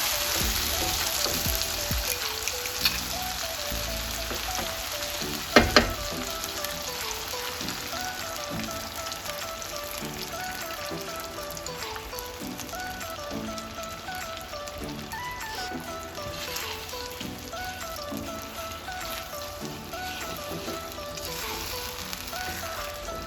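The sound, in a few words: scrambled eggs sizzling and stirred in pan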